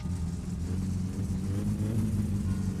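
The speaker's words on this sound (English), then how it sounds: "Motor sounds good." Car engine in the video game My Summer Car, a steady low droning rumble running close and constant with a slight rise in revs, no talking.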